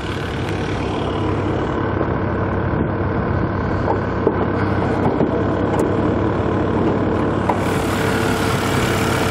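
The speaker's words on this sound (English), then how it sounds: "And there is that fantastic V10 engine." The 500-horsepower V10 of a 2007 BMW M6 convertible running at a steady idle, a continuous low engine rumble with a faint tick or two and no change in revs.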